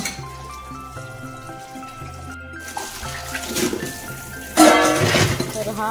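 Dishes are washed in a kitchen sink basin, with water trickling and splashing and utensils clinking, quiet at first and then a louder burst of running water near the end.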